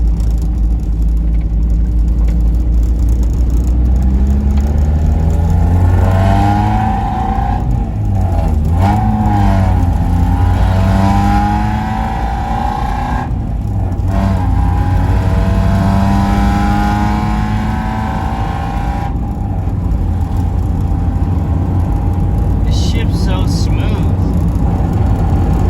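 A car driven on a road test after a clutch master cylinder repair, its engine rising and falling through loud accelerating pulls across the whole stretch, with a voice talking over it at times.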